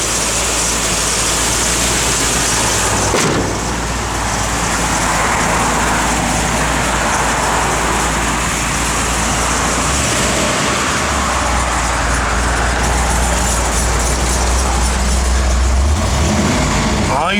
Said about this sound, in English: this car just runs and drives excellent